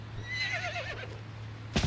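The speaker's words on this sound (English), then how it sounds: "And now they get black horses." A single wavering horse whinny from the video game Civilization Revolution rises and falls for about a second over a low steady hum, then a brief thump follows.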